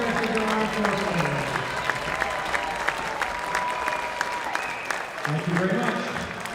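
Crowd applause fills an ice rink at a varsity high school ice hockey game, steady clapping from a large audience throughout with some voices mixed in.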